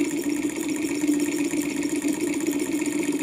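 A small Stirling engine spins a propeller, giving a steady, even whir with a faint rattle and a persistent tonal hum, close and continuous without pauses.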